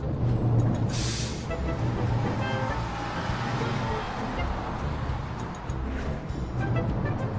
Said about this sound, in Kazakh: 2 катлы автобус